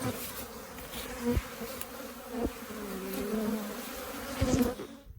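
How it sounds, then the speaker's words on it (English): Honey bees buzzing around hives at an apiary, a continuous close drone of many insects with individual bees swelling louder as they pass near, no talking. "Let's get out of here before the bees rob it all out. They're all ramping up there."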